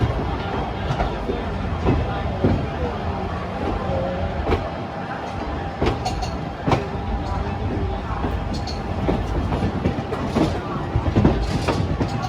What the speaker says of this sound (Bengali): ট্রেন কিন্তু একদম নির্দিষ্ট সময়ে গুয়াহাটি থেকে 2:30 ছেড়ে দিল